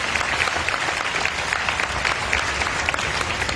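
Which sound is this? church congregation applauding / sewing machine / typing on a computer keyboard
church congregation applauding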